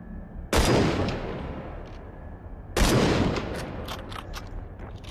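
Two loud rifle shots crack out a couple of seconds apart in the VR shooter Population: One, each with a sharp attack and a long rolling echo tail, plus a few faint clicks between.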